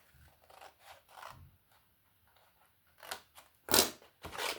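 Scissors cutting paper for a handmade gift bag: a series of faint, close snips and rustles, quiet at first, then several sharper, louder cuts near the end, with no talking.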